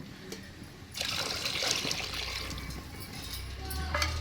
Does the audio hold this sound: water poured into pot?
yes